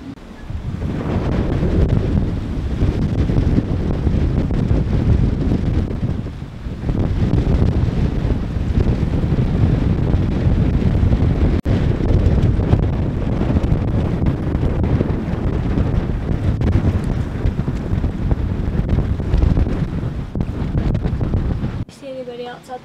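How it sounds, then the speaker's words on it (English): Hurricane wind at peak strength roars steadily into the microphone, a heavy continuous buffeting rush with brief lulls, loud and close throughout. "We are just entering the peak wind levels right now."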